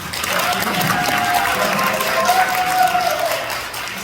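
Audience applause at a Korean Christian association's installation ceremony held in a buffet hall, a loud, continuous wash of clapping hands that holds steady for several seconds and then eases off.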